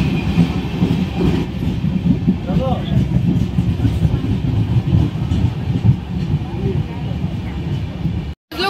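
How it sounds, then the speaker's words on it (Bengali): A passenger train pulls into a station with a loud, continuous rumble and rhythmic wheel clatter close by, while people's voices mingle underneath. "ট্রেন আমাদের ঢুকে গেছে।"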